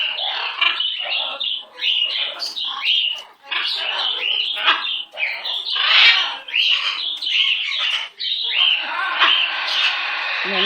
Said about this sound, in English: what an excited little bird we have